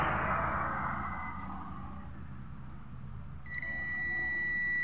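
A steady electronic multimeter continuity beep starts partway through and holds as a continuous high tone, fairly faint over a low background hum, while testing the fuses of a Joson AV-902 integrated amplifier that has power but no sound.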